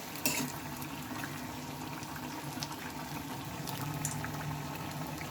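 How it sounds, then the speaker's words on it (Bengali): Four eggplant fritters (begun chop) frying together in oil, giving a continuous, close bubbling sizzle at an even level with no voices. "আমি একটা দিয়ে ভেজে নিয়েছিলাম আর এখন দেখো আমি চারটে একসঙ্গে দিয়ে নিয়েছি"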